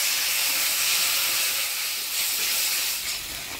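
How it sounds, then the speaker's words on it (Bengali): Spice paste with turmeric, salt and a little sugar fries in a pan, giving a loud, steady hiss that eases slightly toward the end. "মশলাটা ভালোভাবে কষে নিলাম।"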